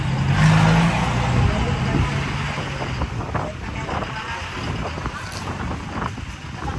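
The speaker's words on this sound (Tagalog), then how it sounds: "Kaya tayo Arjun, dahan-dahan tayo mag-motor" A motorcycle ridden slowly on a road, its low engine drone steady throughout, heavily buffeted by wind noise on the microphone, with a brief voice near the start.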